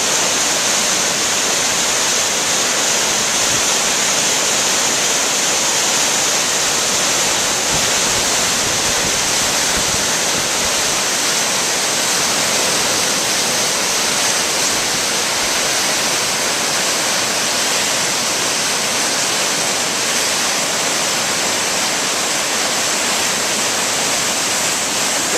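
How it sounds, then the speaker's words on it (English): A steep river flooded by Hurricane Sandy at Midtown Brandywine rushes past in a loud, unbroken roar of churning water, steady throughout with no voices. "Lots and lots of water, and this river is very steep, so when it floods, it really gets out of here in a big hurry."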